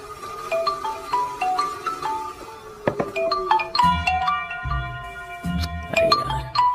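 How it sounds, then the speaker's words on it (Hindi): Melodic electronic phone ringtone playing a repeating chime tune, clear and close, with no talk over it. "अरे यार ये अभी क्यों फोन लगा रहा है?"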